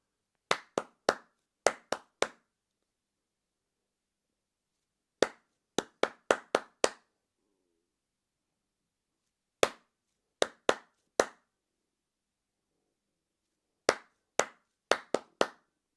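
Hands clap short rhythmic patterns alone in a quiet room, crisp close claps in groups of three to five, separated by pauses of silence.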